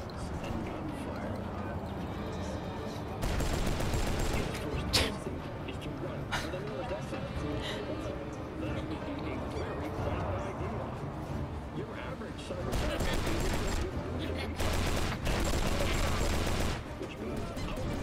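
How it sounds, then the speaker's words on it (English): Gunfire bursts in the Cyberpunk 2077 v2.0 game, set in Night City, loud and repeated in several rapid volleys amid dense game sound and music. "suddenly hear screams and gunfire."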